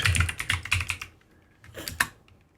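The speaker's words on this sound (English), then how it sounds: "So you just type in DiskPart" Quick, close keystrokes on a computer keyboard while entering a command during a Linux install, with a short burst of typing, a pause, then a few more key taps.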